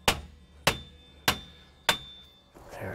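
A hammer taps on a rear wheel bearing of a 2011-2020 Toyota Sienna AWD during repair, four sharp metallic strikes evenly spaced about half a second apart, close and loud, with a brief scrape after.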